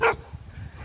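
A Bhote dog, a Tibetan-type breed in a hill village of Nepal, gives a single short, close bark, then faint rustling.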